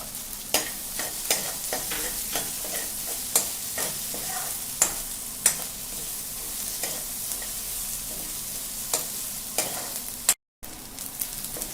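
Onions fry in a pan with cumin and black pepper as a steady sizzle, with a spatula scraping and tapping the pan at intervals. There is one brief dropout near the end.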